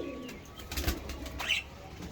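Pigeons burst out of an opened loft, a couple of quick flurries of flapping wings close by, with a soft coo in the background and no talking.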